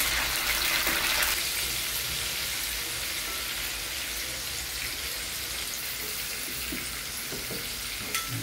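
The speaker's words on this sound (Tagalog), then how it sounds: "dito ipiprito yung bangus" Milkfish frying in hot oil, a steady bright sizzling hiss that runs unbroken throughout, with no one talking.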